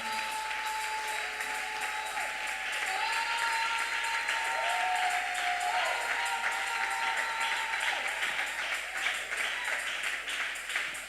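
Church congregation applauding at a worship service, a steady wash of clapping from a crowd with faint tonal pings and some voices mixed in, fairly distant and sustained throughout.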